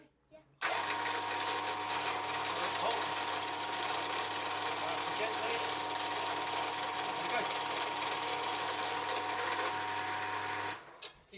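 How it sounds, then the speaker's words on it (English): A power drill bores another hole in wood for a diddley bow, starting abruptly and holding a loud, even motor whine with gritty cutting noise for about ten seconds before cutting off. "Right then we need to drill another hole."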